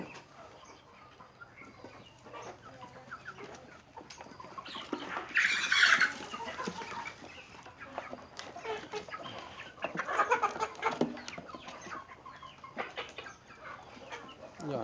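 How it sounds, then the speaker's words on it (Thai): Chickens about four months old clucking and squawking while eating nearby over a low steady hum, with louder bursts of calls and faint pecking and scratching sounds. "มชมไก่กินอาหารนะครับ"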